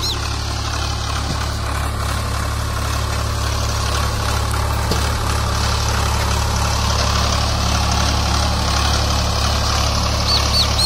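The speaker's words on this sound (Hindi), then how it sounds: "मेरा स्वराज 735 अभी रामू हाथी, बहुत दिनों में आया है ये YouTube पर।" A Swaraj 735 FE tractor runs with a cultivator attached, its diesel engine holding a loud, steady low throb and hum close by for the whole stretch, with no talking over it.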